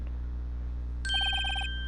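A video game telephone rings after a redial: a bright electronic ringtone of rapid repeated chirping tones sounds for about half a second, fairly close and clear, over a quiet low background hum.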